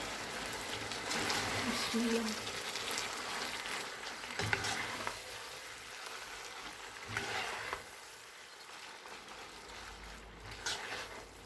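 Chicken vegetable spaghetti is stirred and tossed in a hot pan, giving a steady sizzle with scraping and mixing noises. A voice speaks over it at times.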